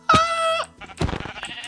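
Two short sheep bleats from Minecraft sound loud and close, a wavering nasal bleat followed by a second rougher one after a brief gap, with no talk over them.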